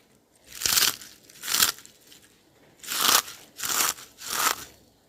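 Crispy fried Thai dok jok snack crunches five times in sharp, close bites, each a short burst separated by brief quiet gaps.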